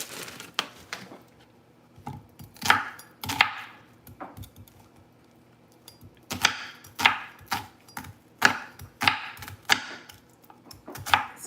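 A knife chops onions on a board in a home kitchen, sharp irregular knocks in quick clusters separated by short pauses, close and clear with no talking.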